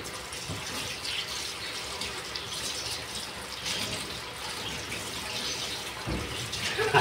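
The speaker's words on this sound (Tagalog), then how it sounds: "lagyan natin ng mantika" Cooking oil poured into a pan, a continuous close liquid rush and gurgle that fills the whole span with a slight swell at the end.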